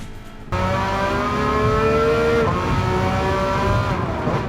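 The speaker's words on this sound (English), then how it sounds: "the car exhaust is absolutely perfect" A car engine in Gran Turismo 7 roars loud and steady, its exhaust note climbing through the gears with repeated upshifts, with faint tire squeal and no talking.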